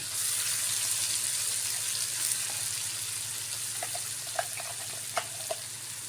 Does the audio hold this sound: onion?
yes